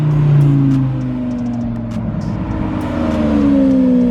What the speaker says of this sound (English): Lambos for days coming through